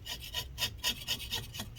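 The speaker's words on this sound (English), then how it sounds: "we'll just scrape it off to be safe" Repeated rasping scrapes inside a Lenovo ThinkPad X1 Extreme laptop being taken apart, a steady run of short close strokes about every quarter second, fairly quiet with no talking.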